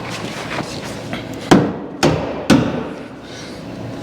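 Three heavy hammer blows knock an aftermarket steel floor pan into place on a classic car, each a loud metallic thud spaced about half a second apart, close by, with no talk.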